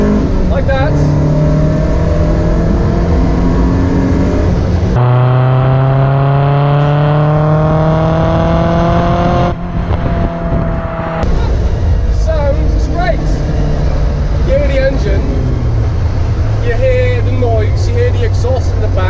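A Lotus pulls hard in third gear at about 70 km/h, its exhaust rising in rough, steady tone from inside the car as engine note climbs and falls, with talk over much of it.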